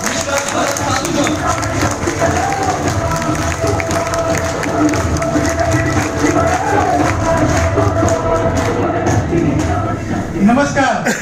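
A stage event audience applauds and cheers continuously and loudly as a speaker is welcomed, a dense wash of clapping and crowd noise with some voices mixed in.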